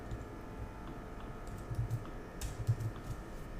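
Soft, rapid keystrokes on a computer keyboard as code is typed, quiet and close, with a few slightly heavier taps partway through and no talking.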